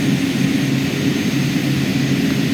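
Steady, loud turboprop drone of the Carenado King Air B200's twin engines heard from outside the aircraft in MSFS 2020, a constant low hum with a whining tone and no voices.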